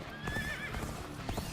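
Hooves clop rapidly as a horse gallops in Dynasty Warriors: Origins, a steady close rhythm of hoofbeats with a whinny cutting through amid battle ambience.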